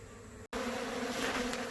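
Bees buzz steadily and close around a screened hive entrance, a dense continuous hum with a brief cut near the start.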